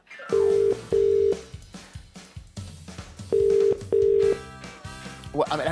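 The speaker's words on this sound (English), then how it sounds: "Dial the first number." A telephone number is dialed, giving four clear steady tones in two pairs separated by a pause, with clattering background noise and faint voices between them.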